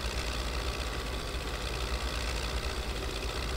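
Engine of a KhMP-1.8 cotton harvester in Farming Simulator 19 runs with a steady low, rough drone and a knocking rumble at constant loudness, with no voices.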